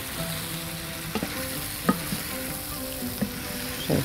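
Chicken and colored bell peppers stir-frying in a pan, a steady sizzle with a few sharp utensil scrapes and clinks as the food is turned, no voices.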